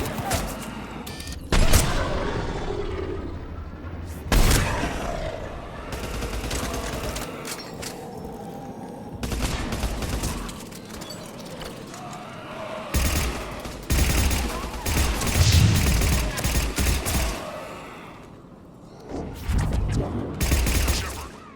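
Gunfire in the video game Mass Effect 3: loud bursts of automatic fire and single shots come in repeated volleys, mixed with mechanical clanks, and voices talk over parts of the battle.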